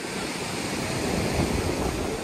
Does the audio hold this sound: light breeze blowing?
yes